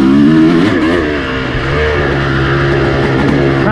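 A 2006 Honda CRF230F dirt bike engine revs up and down nearby, loud and continuous, its pitch rising and falling as the throttle changes on a slippery track.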